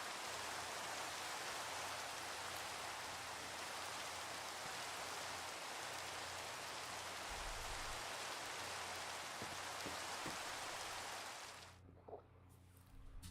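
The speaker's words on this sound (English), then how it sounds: "As happy as I am that the rain is here and that it's filled up my barrels" Steady, loud rain pours in the video game Minecraft, a dense continuous hiss that holds for about twelve seconds and then cuts off abruptly, leaving a quieter stretch with a few faint clicks.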